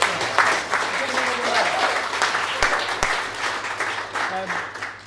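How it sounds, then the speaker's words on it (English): A lecture audience gives a warm round of applause, many hands clapping steadily at close range, with a faint low hum underneath and a few brief voices mixed in. "So I think we should give Anne a bit of a round of applause"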